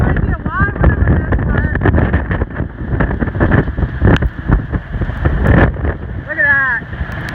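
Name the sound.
nor'easter storm wind and surf at Rehoboth Beach, Delaware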